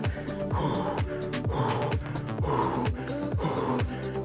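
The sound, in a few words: heavy breathing during spin bike workout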